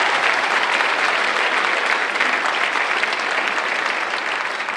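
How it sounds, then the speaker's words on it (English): An audience at a school band winter concert applauds continuously, a loud, even roar of many hands clapping that holds without pause throughout. "let's get a round of applause for all of them"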